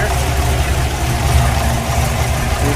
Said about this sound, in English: We can listen to all that engine noise.